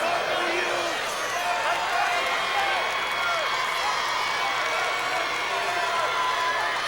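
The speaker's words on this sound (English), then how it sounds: "There you see some of the crowd here at the Pontiac Silverdome." Steady roar of a large crowd at a 1991 Class DD high school football final in the Pontiac Silverdome, a constant distant murmur of voices and cheering with a few whistles, filling the whole stretch evenly.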